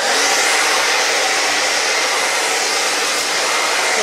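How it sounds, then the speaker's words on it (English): A blow dryer runs loud and close over hair, with a constant high whooshing roar, unbroken throughout, no voices heard. "you can just use your blow dryer and apply the heat over it just like this"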